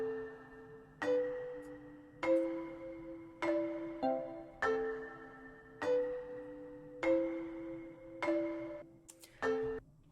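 Mellow marimba notes ring out in a slow repeating pattern, layered with soft plucked guitar tones, fairly quiet with no voices.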